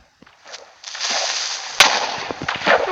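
A creeper-style explosion in Minecraft PE, a loud burst that hits in the middle and carries a crackling, rumbling tail. Softer pops and thuds come before it.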